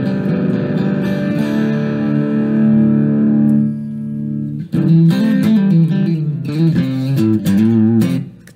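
Tagima TW-61 electric guitar played through its bridge pickup with the Varitone switch in position two, heavily distorted sustained chords ringing out, a brief pause, then choppier riffing and bends, loud and close with no talk.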